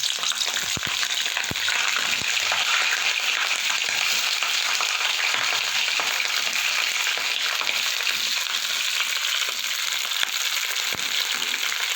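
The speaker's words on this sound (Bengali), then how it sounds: "এবার আমি ফুলকপিগুলো ভেজে নেব" Cauliflower florets frying in hot oil in a wok, a steady dense sizzle with faint crackles and stirring clinks running unbroken and close throughout.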